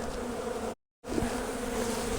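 Honey bees buzz around an active beehive with a dense, steady drone, briefly cut to silence partway through before the loud hum resumes.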